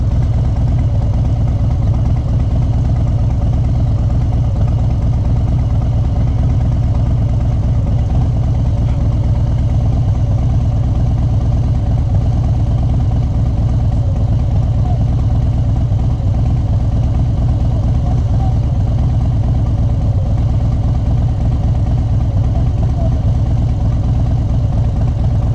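Steady, loud low rumble of a vehicle engine idling while a trailer is backed up on a leaf-covered fall day, droning on unchanged without a break.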